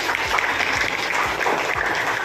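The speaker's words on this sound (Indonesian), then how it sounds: "tepuk tangan dulu buat kita" Classroom of students clapping together for themselves, a lively mass of hands with a few louder claps poking through, moderately near and sustained.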